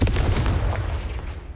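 A spell blast cast in the Hogwarts Legacy video game, a loud booming burst with dense low rumble that fades away over about a second and a half.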